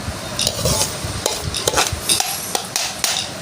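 Hot roasted semolina being stirred together with edible gum for panjiri, producing loud, close, repeated scraping and clinking strokes in a steady rhythm.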